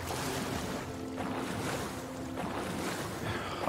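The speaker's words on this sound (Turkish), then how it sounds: "Dalgalar zorluyor cidden ha." Ocean waves wash and rush against a sailing boat at sea in the video game Stranded Sails, a steady, dense surf with wind noise that runs without a break.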